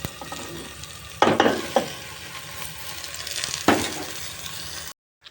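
Onion and green chillies frying in a pan, a steady soft sizzle broken by a few louder scraping stirs of the spoon before the sound cuts off.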